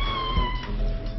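A cat gives one short, close, clear meow with a rising then falling tone, heard alone over faint background hum.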